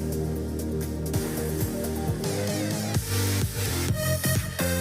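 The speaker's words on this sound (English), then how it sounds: "this is just the instrumental of the whole song" Instrumental of a progressive house track, produced in FL Studio, plays alone with a steady, dense mix of sustained synth chords, bass and percussive hits that shift every second or so, with no vocals.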